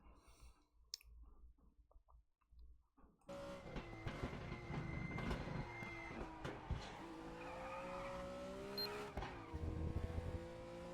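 An M1 Procar race car engine in a racing video game snarls continuously after a quiet opening, with quick gear changes and bursts of tire squeal layered over the loud, steady drive.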